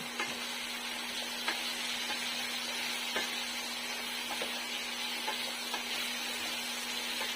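Chili powder frying in a pan with oil, making a steady, close, continuous sizzle with faint crackles scattered throughout and no talking.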